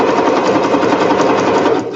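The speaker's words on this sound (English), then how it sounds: "All right, I'm going to sew real quick." A sewing machine runs at speed close by, a loud rapid steady whir and needle chatter that trails off and quiets just before the end.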